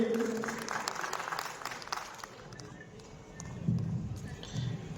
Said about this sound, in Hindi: राष्ट्रीय अध्यक्ष जी के लिए जोरदार तालियां श्री विपुल सिंघल जी के लिए